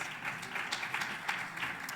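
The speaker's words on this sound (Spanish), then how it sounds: "Un aplauso para ella." Audience applause at an education technology conference panel, a soft, distant patter of clapping that carries on steadily at low volume without speech.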